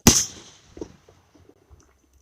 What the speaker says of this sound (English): Nope, just fireworks.